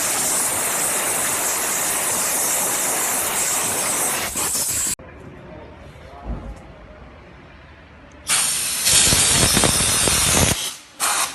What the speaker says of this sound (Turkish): Şu an motor temizliyoruz buharla.